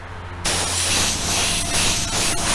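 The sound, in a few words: spray painting a model car base coat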